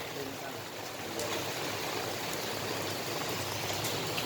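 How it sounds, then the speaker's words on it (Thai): Rain falls in a wet outdoor setting as a soft, even hiss of drops that thickens a little after the first second. It stays faint and steady throughout, and no one talks. "ฝนตกเลยนี่"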